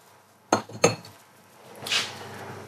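A plate set down among other dishes, two sharp nearby clinks close together, followed by a softer rattle of crockery a moment later, with no talking.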